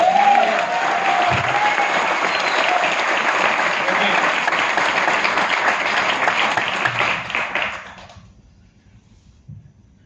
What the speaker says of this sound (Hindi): तालियां ना गड़गड़ाहट वाले होनी चाहिए